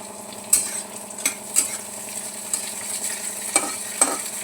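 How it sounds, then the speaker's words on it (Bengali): Garlic and green chilli fry in a pan with a steady, close sizzle. Occasional sharp clinks of stirring against the pan punctuate it, and no one speaks. "এর সঙ্গে রসুন আর কাঁচা লঙ্কা দেবো। ওটা দিয়ে একটু ভাজা ভাজা করব।"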